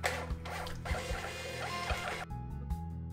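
A Jadens printer runs, a steady mechanical whir with soft rhythmic thumps from the feed, then a short pause and a few quieter clicks near the end, heard close with no talking.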